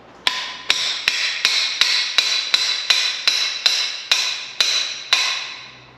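A CF Moto 800 Trail control arm part is tapped down on a table in a steady series of about thirteen sharp metallic knocks, each ringing briefly, evenly spaced and close.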